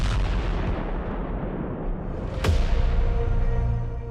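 A bomb explosion from a blast that killed a Russian nuclear weapons chief outside an apartment gate, heard as a sudden loud boom midway through, preceded by rumbling noise and followed by a lingering low rumble.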